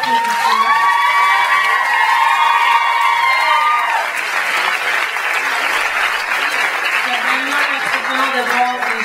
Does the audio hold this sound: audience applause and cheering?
yes